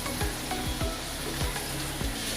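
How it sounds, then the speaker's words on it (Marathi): Broken dried red chillies sizzling in hot oil for a restaurant-style paneer gravy, a dense close crackling hiss with several quick spoon scrapes against the pan, with no talking. "आणि आता मी त्यामध्ये 4 लाल सुकी मिरची तोडून टाकणार आहे"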